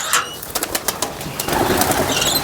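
Pigeons coo in a loft, a few close throaty calls and soft rustling with a brief flutter, heard without talk.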